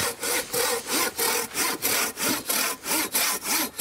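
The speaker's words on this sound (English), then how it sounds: "Sawing through some wood." A folding saw cuts through wood outdoors in quick, regular back-and-forth strokes, about three per second, close and clear with no voices.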